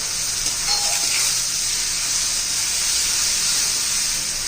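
A ground paste of roasted coconut, ginger, garlic, green chili and cumin sautés in oil for kharada chicken, giving a loud, continuous hissing sizzle that stays steady throughout.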